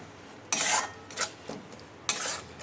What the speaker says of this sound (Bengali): টক দইটাও ভালো করে কষিয়ে নেব